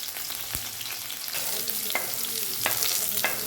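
Cumin, mustard seeds and chilli fry in a little hot oil, crackling with a steady sizzle punctuated by sharp pops and spatters, plus the scrape of stirring, close and fairly loud.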